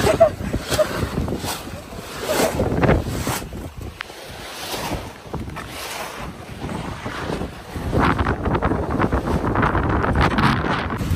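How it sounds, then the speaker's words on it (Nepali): Strong wind gusts buffet the microphone on the Fungfung hillside at Kakani, Nuwakot during rain, roaring in loud uneven surges that ease briefly and then build again, with voices faintly underneath. "हावा चल्यो"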